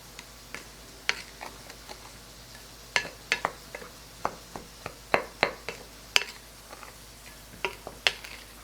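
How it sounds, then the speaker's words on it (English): Packed brown sugar is stirred in a bowl with irregular light scraping clicks and taps, close and fairly quiet, with no talking. "now we're just going to mix this around"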